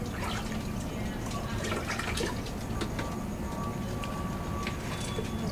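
Dyed silk being rinsed out with water gives a steady wash of running, dripping liquid that holds at one level throughout, close to the microphone.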